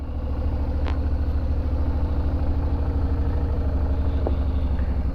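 A Suzuki V-Strom 650 motorcycle engine settled into a steady, close, loud idle with an even low throbbing pulse and a couple of faint clicks, no talking.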